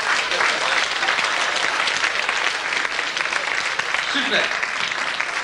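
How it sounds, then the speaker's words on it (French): Loud, dense audience applause at a cruise-ship show, a steady wash of clapping that holds for several seconds, with a brief spoken exclamation cutting through near the end. "Applaudissements."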